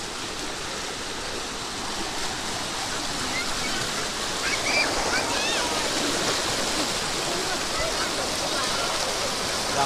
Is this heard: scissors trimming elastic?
no